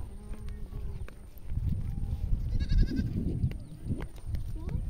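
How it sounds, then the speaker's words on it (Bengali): Outdoors in a Bengali village, a goat lets out one short bleat midway through, heard over rustling and shuffling ground noise. "দেখেছিস সিমন কি সুন্দর ছাগল"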